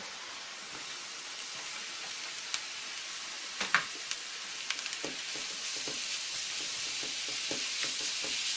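Onion, garlic and grated mushrooms fry in a pan with a steady, even sizzle, broken by scattered clicks and scrapes as the mixture is stirred.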